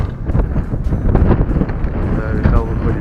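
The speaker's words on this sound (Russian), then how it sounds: "А сегодня сильный ветер, походу, будет." Strong wind on a winter morning in a Russian forest buffets the microphone with constant, loud, rumbling gusts that swell and ease throughout.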